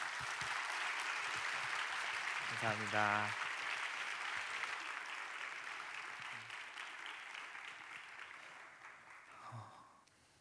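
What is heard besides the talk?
audience applause for a speaker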